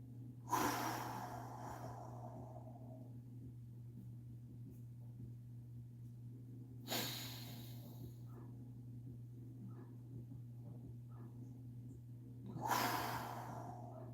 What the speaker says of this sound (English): Try it, box breathing.